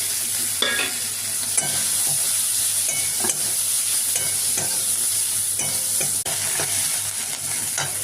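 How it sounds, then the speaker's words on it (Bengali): Chopped onion and crushed garlic hit hot oil with bay leaf and dried chilli, sizzling loudly and continuously while a spatula stirs and scrapes the pan in irregular strokes, close up and with no talk. "আর একটু রসুনটাকে থেতো করে রেখেছিলাম, আর পেঁয়াজ কুচিটা দিয়ে দিলাম।"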